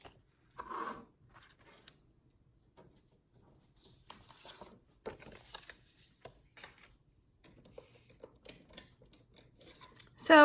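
Scissors snip through Petal Promenade designer paper for note cards in sparse, quiet cuts with soft rustling and rubbing between them, close by and with no one talking.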